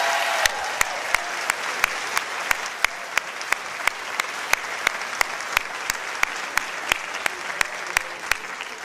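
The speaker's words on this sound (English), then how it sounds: "please help me with a final round of applause" Audience applause at a Teacher of the Year awards ceremony, a steady wash of clapping from a seated crowd with one sharp, regular clap standing out close by, sustained for several seconds with no talk over it.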